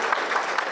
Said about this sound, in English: Give Dr. Chima a round of applause.